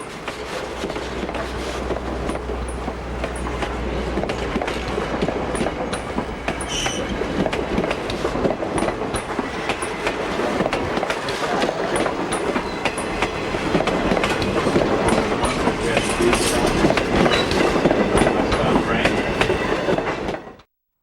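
Amtrak passenger train made up of ex-Boston and Maine coaches running on the Keystone Line near Gordonville, a steady, close rumble of wheels and rail clatter that holds for about twenty seconds with faint squeals, then cuts off.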